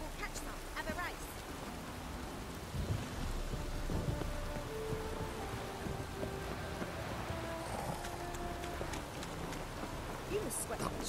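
Steady rain patters over everything in The Witcher 3: Wild Hunt, a constant wash of drops with brief tonal chimes and effects layered on top.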